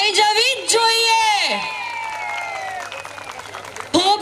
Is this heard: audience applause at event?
yes